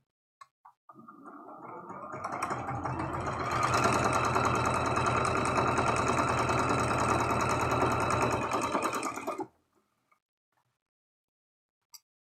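A sewing machine runs steadily for about eight seconds, stitching the rows of a heart rag quilt together. The motor hums with a dense mechanical whir and starts and stops abruptly, with no talk over it.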